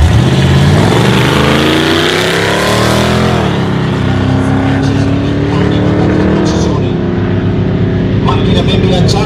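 A drag racing car launches and accelerates hard down the strip, its engine roaring loud and close with rising pitch, shifting partway through as an announcer talks over the noise.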